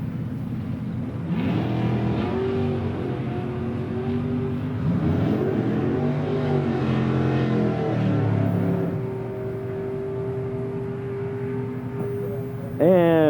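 Drag racing cars, a 1967 Camaro and a 1963 Nova SS, rev and accelerate with loud, rising engine tones that hold steady for several seconds, under an announcer's voice, before a sharp burst near the end.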